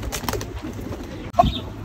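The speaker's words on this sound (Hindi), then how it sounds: "पांपोश कबूतर" A pomposh pigeon gives a brief soft coo close by, a short burst standing out over faint background rustle near the end of the clip.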